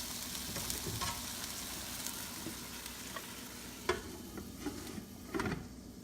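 Milkfish steak frying in a covered pan, a faint steady sizzle with a few soft knocks and scrapes.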